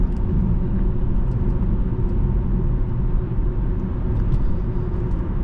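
A 2010 Infiniti FX35 AWD SUV on the road, heard from inside the cabin as a steady, loud low engine and road rumble with no talking.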